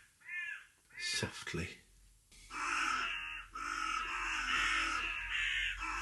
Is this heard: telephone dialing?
no